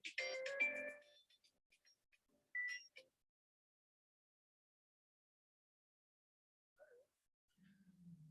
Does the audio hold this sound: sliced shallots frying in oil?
no